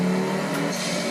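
A car in the racing game Project Cars driving on cold tyres around the Bugatti circuit at Le Mans, a steady droning engine tone holding a near-constant pitch, loud and continuous, with no speech.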